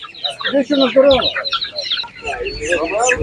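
A crowd of chickens clucks busily at an animal market in Ivano-Frankivsk, loud and near, with overlapping calls and voices talking in the background.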